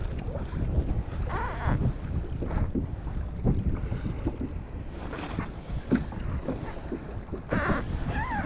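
Strong wind buffets the microphone during kayak fishing on open salt water, gusting in uneven, rough bursts with no voices, loud and close.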